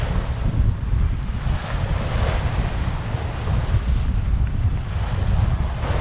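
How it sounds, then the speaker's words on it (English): Ocean swell and surf wash around a sailboat off the Exumas in the Bahamas, a continuous loud roar buffeted by heavy wind noise on the microphone, with no one speaking. "Tide coming in, not many white caps out there, so I think we should be fine. There is the swell."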